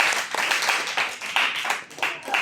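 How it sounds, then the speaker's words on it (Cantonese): Audience in a church sermon clapping in applause, a close, continuous burst of many hands with rhythmic pulses, lasting a couple of seconds. "係掌聲鼓勵"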